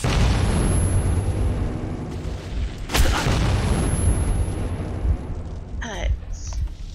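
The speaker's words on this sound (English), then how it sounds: "I do not like these grenades" Grenade blasts in the video game Metro: a broad loud boom near the three-second mark over constant rumbling game noise, with smaller bursts later and some sharp tonal effects near the end.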